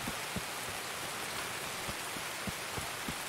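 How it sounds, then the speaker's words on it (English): Heavy rain pours in the video game Escape from Tarkov, a dense constant hiss of drops with scattered louder individual drips and splats close by, no voices. "When it's really loud rain like this,"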